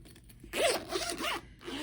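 A zipper on the cover of a devotional book is pulled open in one brief, close ripping stroke lasting about a second, in a quiet room.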